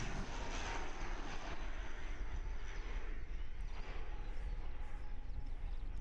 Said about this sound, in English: NZ 5383 ATR 72 600 coming in.